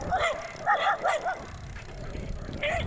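A dog barks and yips in a quick rhythmic burst of several sharp calls, fairly close, followed by a whimpering tone with background noise and a voice nearby.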